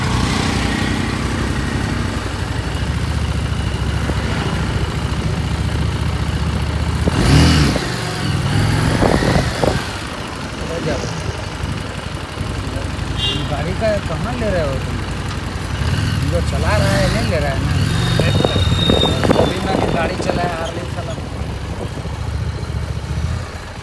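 Harley-Davidson motorcycle engine rumbling steadily while riding on a long road trip in Bihar, India, with revs rising and falling over wind noise, and people talking over the engine throughout.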